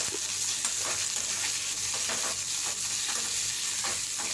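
Mudakathan keerai greens sautéing in a pan, with a constant close sizzle and repeated scraping and stirring strokes throughout, no voices.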